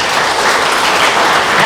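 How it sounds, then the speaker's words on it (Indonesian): A church revival crowd at a police headquarters gathering breaks into loud, dense applause and cheering that carries on steadily the whole time. "Berikan sorak-sorai."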